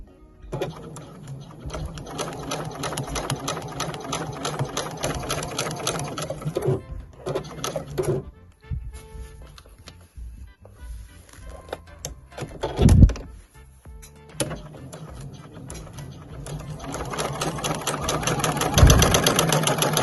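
A household sewing machine runs a straight stitch with a universal needle on scrappy fabric, a near, rhythmic mechanical whir that stops and restarts with a few thunks in between.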